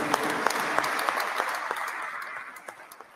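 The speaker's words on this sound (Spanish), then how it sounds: "voy a pedir un voto de aplauso para nuestro Cardenal Toribio" A gathering at a church sanctuary applauds a cardinal with lively hand clapping, individual sharp claps popping out over the crowd before the sound gradually thins over about three seconds.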